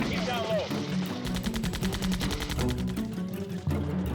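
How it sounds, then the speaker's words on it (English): Heavy gunfire from the Vietnam War, with rapid bursts repeating in quick succession close by, loud and dense, while someone speaks over it. "And now artillery is being called in, as you can hear, very close."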